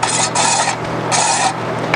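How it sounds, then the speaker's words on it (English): A stainless steel wire brush scrubbed back and forth over a TIG weld bead on metal, a loud, steady raspy scratching in rhythmic strokes with no talking. "This is a stainless steel brush."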